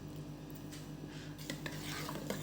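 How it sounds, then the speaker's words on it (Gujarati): Dry fruits stirred into chilled custard apple basundi: quiet, soft stirring under a low background hum, with a few light spoon clinks toward the end. "ઉપરથી થોડા ડ્રાય ફ્રૂટ એડ કરીશું"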